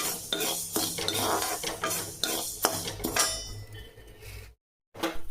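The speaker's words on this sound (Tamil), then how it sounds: "இப்போ வெந்தயம் வறுபட்டுச்சு" Fenugreek seeds are dry-roasted in a pan and stirred with a metal spoon, giving repeated scraping clinks and rattles against the pan with a light crackle beneath, ending abruptly in a brief silence.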